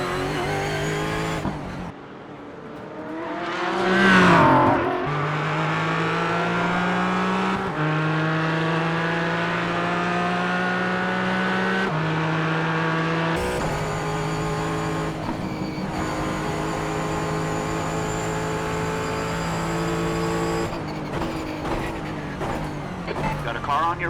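Race car engines in the iRacing sim whine and rise through the gears, with shifts, a brief surge and a steady high drone, while a spotter talks over the engines.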